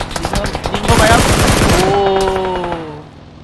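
Rapid automatic gunfire from vehicle combat in the battle-royale game PUBG Lite, a loud burst of dense repeated shots that fades into engine drone and in-game sounds.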